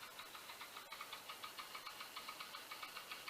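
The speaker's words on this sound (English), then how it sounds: "No, it's the Spirax valve." A Bachmann Class 150 DCC sound-fitted model train gives off a rapid, regular clicking from its Spirax valve, ticking steadily over a low engine hum and heard alone at low volume.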